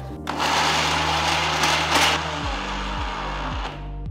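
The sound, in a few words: mixer grinder grinding spices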